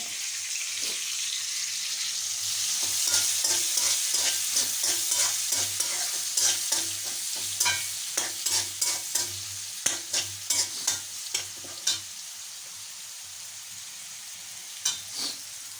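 Chopped garlic and onion fry in oil for a Bengali hilsa fish curry, a steady sizzle broken by a run of scraping stirs from a spatula against the pan, close by with no speech.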